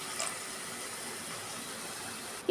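A cup of water poured into a pan of spiced masala, a soft steady splashing pour heard close and quietly, with a brief clatter at the very end.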